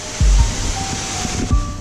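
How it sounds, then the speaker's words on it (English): Jogini Falls in Manali pours with a loud, steady broadband rush of falling water, broken by a few low thumps nearby. "check out this, how bizarre, how crazy this is, that the waterfall is falling like this."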